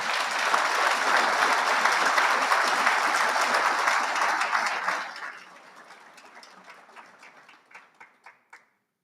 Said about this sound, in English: a round of applause for First Sergeant Oliveira.